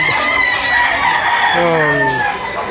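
A rooster crows close by in one long, drawn-out call, with faint clucking around it and a voice briefly audible at the end.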